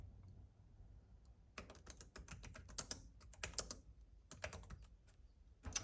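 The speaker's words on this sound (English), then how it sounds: "I know I hit spacebar." Bursts of typing on a Nillkin magnetic bumper keyboard case for an iPad, some keys broken off, clicking in quick irregular clusters with pauses between, fairly faint and close with no talking.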